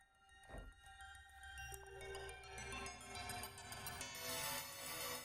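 A synthesized bell-like tone rings out, starting sparse and building into a dense, bright, shimmering layer of metallic FM partials that sustains loudly to the end.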